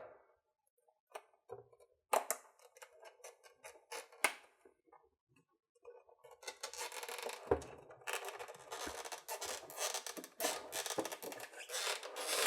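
Packaging of a brand-new Creative Nomad Jukebox 2 being opened: scattered rubs and crinkles at first, then a dense stretch of close scraping, rustling and tearing.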